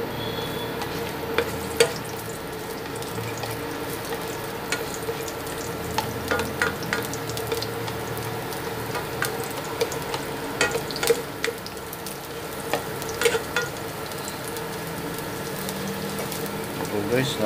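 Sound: onion and garlic sautéing in a pan

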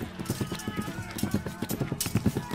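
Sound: warriors' horses charging, galloping hooves

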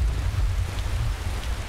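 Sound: rain and thunderstorm in Skyrim video game

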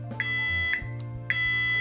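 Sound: multimeter beeping in continuity mode as the probes touch

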